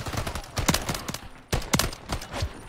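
Rapid bursts of gunfire from a Call of Duty Search and Destroy match, sharp repeated shots in two clusters with a brief pause between, loud and close.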